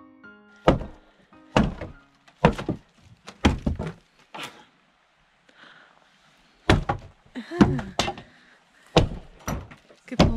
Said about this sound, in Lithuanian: griauna lubas.